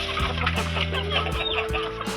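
Chickens crowding around scattered food scraps give off clear, close clucks in short, repeated bursts, with a few overlapping calls and no talking.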